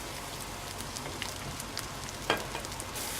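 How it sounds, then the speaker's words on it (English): Arborio rice fries in fat in a pan, giving a soft, steady crackling sizzle with small pops and one sharper scrape of stirring, heard close and fairly quiet. "Stir the rice."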